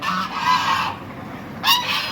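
Geese crammed into a small pen at a street market in Erbil give loud, close honks in two bursts, with ducks nearby.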